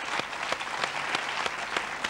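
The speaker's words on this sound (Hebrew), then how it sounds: "1580 מחיאות כפיים לעידוד" Steady audience applause from a crowd at a 1993 Israeli entertainment show, a continuous patter of many hands with sharper individual claps standing out, moderately distant and fairly quiet.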